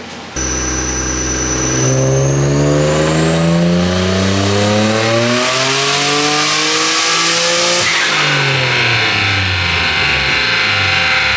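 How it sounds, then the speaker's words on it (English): A turbocharged Nissan 350Z engine on a dyno, pushed to its highest boost, roars loud and close through a rising pull of about seven seconds, lifts off, then rises again, with a sharp whine riding above the engine. "I just got finished making a dyno pull where I sent the boost to the highest level I thought I could do"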